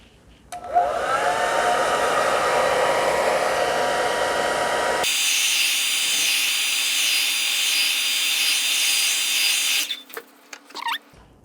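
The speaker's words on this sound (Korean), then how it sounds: "드라이기로 건조를 꼭 시켜주세요." A hair dryer blows steadily for about nine seconds over freshly varnished pop art canvas, its whine shifting pitch midway as the setting or angle changes, then cuts off with a few handling clicks.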